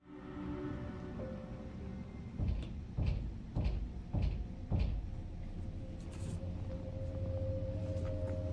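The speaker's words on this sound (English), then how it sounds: "A loud knocking sound was coming directly from inside the closet." A sharp series of about five loud knocks thuds from inside a closet at an even pace, set against a steady low background hum.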